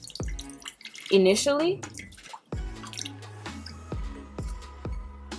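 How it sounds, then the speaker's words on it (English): A Rose of Jericho plant is rinsed in water, with drips and splashes falling in a steady series of separate drops, and a voice speaking briefly near the start. "you could also kind of rinse your Rose of Jericho prior to use. That way some of the dirt comes off"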